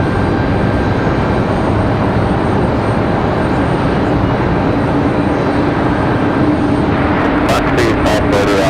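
An airplane at Raleigh-Durham International Airport gives off a loud, steady engine roar that fills the air without pause, with a voice present over the noise.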